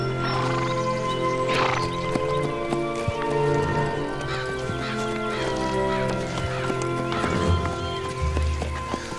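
Horse hooves clip-clop at a steady walking pace, close and distinct, mixed with a continuous musical film score and occasional farmyard bird calls such as geese or ducks.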